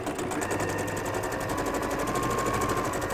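Sewing machine running continuously as it stitches a quarter-inch seam on a cushion, a fast steady close mechanical whirr with rapid needle ticking throughout.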